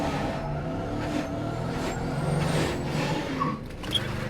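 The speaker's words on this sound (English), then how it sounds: "Yeah, that was a rev limiter." Supercharged TorqStorm Chevrolet Silverado truck engine on a dyno, bouncing off the rev limiter with a sustained, fluttering high-rpm drone that dips briefly near the end, heard alone at moderate loudness.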